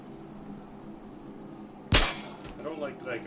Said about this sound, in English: I can break the glass on this and nothing